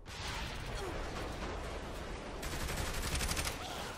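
Rapid gunfire in the video game Saints Row: The Third, a dense, continuous burst of shots in a car-filled street scene. It grows sharper and crackling toward the end, and a voice is faintly present.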